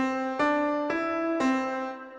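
A short melody on a sustained, harmonically rich keyboard or synth tone, starting on C: three evenly spaced notes about half a second apart, each with a soft onset, played alone with no talk and fading at the end.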